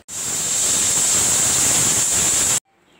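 A loud, steady mixer grinder grinds coconut paste, whirring without pause for about two and a half seconds, then cuts off abruptly into near silence.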